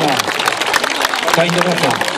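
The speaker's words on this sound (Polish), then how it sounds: "Wielkie brawa." Audience applause at a Taekwon-do club demonstration, a steady dense wash of clapping lasting the whole moment while an announcer's voice carries over it.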